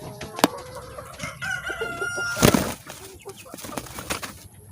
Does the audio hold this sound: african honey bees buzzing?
no